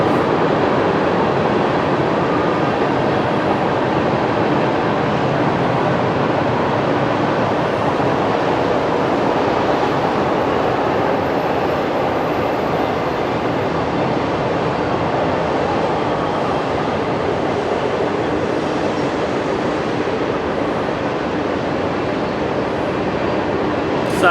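A train rumbles past steadily for a long stretch, a dense continuous roar of wheels and cars with no break.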